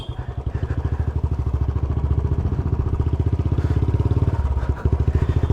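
A Royal Enfield Bullet Classic 350 thumps along at a steady pace, its single-cylinder exhaust beating in a fast, even rhythm, loud and close, with brief clattering knocks over the engine note.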